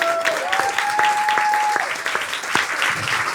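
A comedy club audience applauds and cheers for a comedian, dense clapping with whoops and a sustained whistle, loud and close, filling the room throughout.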